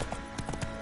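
Horse hooves clip-clopping at a steady walk in The Witcher 3: Wild Hunt, a run of quick hollow knocks over a dense background bed.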